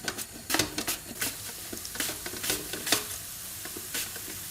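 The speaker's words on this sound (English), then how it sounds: "when the oil is hot, we add the onion" Chopped onion dropped into hot oil in a home kitchen pan, giving scattered crackling sizzle bursts and spatters with stirring clatter, close and moderately loud, no voices.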